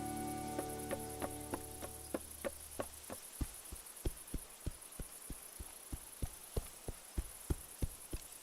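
Cricket chirping at dusk in A Juggler's Tale, a steady run of sharp, evenly spaced pulses over a low hum, moderately loud with no talking.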